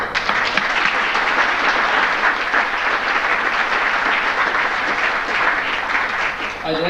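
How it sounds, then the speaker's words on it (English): Banquet audience at a senior sports awards night applauds in a steady, dense wash of clapping that holds loud and even for about seven seconds with no talk over it. "let's give it a big applause."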